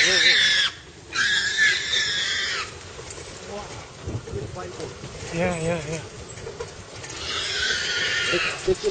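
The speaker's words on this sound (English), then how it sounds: "This is the sound of wild boar." Wild boar calling in the forest of Sariska, tiger country, with harsh squeals and grunts in bursts at the start and again near the end, close and fairly loud, and people murmuring quietly in between.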